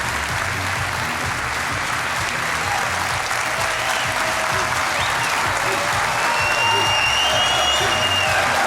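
Sustained applause from a large audience at a DreamHack Winter 2014 esports award ceremony, steady and dense throughout, with faint crowd noise and voices mixed underneath.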